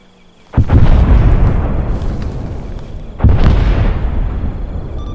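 Artillery rounds landing close in Arma 3 during a Vietnam-era infiltration battle, two loud booming explosions a few seconds apart, each followed by a long rumbling decay.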